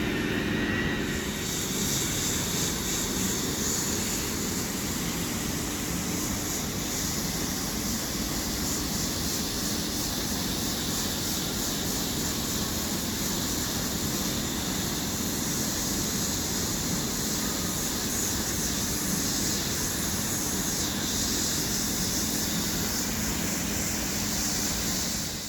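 A plastic welder runs steadily while cracks in a plastic fairing panel on a 1986 Suzuki RG500 motorcycle are filled. A loud, continuous blowing hiss with a thin high whine carries on without pause, and no one speaks.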